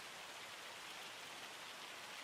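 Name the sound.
rain in Farming Simulator 25 video game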